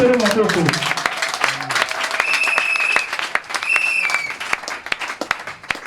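A church congregation claps steadily and densely throughout. Voices and sustained singing or instrumental tones rise over the applause in places.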